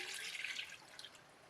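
Water is poured from a tap or jug into a steamer pot on the stove for steamed prawns, a steady faint splashing trickle heard alone for about a second and a half.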